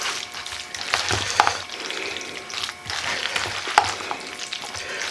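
Pasta salad with sour cream, bacon, carrots and peas being stirred in a bowl, a steady wet squelching and scraping with rhythmic swells and no talking.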